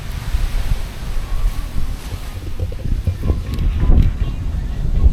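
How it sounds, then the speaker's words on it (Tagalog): Strong ocean waves on the Zambales coast churn and wash under steady gusting wind, a loud, continuous low roar with surging swells building toward the end. "Malakas ang alon."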